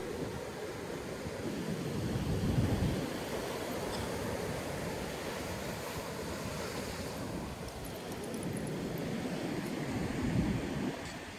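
Ocean waves breaking on Corindi Beach, NSW, a steady wash of surf with louder surges as waves roll in, mixed with some wind noise and no voices.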